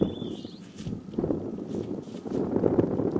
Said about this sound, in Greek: Ακούτε τον αέρα πως φυσάει.